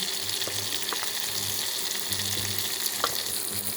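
Chopped onion tossed into a pan of frying pangasius fish, giving a dense, even sizzle close up with a few faint clicks, and no voices.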